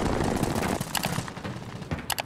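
Rapid gunfire bursts in Call of Duty: Warzone crackle in quick clusters, loud and sharp, with a final close volley at the end and no speech over it.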